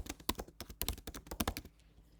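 Someone types into an online document on a computer keyboard, producing a quiet, fast run of close key clicks that stops after under two seconds.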